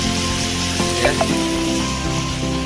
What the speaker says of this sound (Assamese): এয়া মাংস বনাই থকাহে দেখুৱাইছোঁ আপোনালোকক